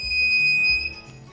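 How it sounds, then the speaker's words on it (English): A buzzer in a simple LDR laser security alarm sounds a steady high electronic tone for about a second, then cuts out, loud and close. "you can see the LED is on as well as the buzzer is beeping"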